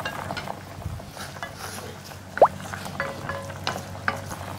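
Squid is stirred in a pot of boiling water, giving a bubbling, simmering bed with scattered scrapes and light clinks of a utensil against the pot, one sharper metallic ring midway.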